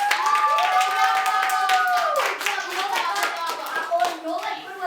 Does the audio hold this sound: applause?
yes